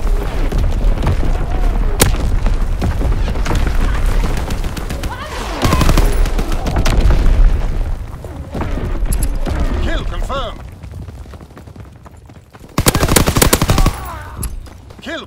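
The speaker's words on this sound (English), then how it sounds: "Fighter pilot inbound, strafing the target." A fighter plane strafes in Call of Duty WWII with dense, loud machine-gun fusillades and booming impacts that come in waves, then a sharp final burst, while radio-style voices talk over the fire.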